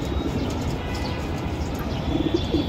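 Low, soft cooing of caged pigeons after bathing rises and falls against a steady background hum, with faint chirps above; the coos grow a little clearer toward the end.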